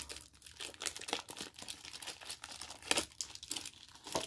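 Modeling cutters snip through plastic shrink wrap on model kit boxes, producing close, irregular crinkling and tearing rustles with sharp crackly bursts throughout, no speech.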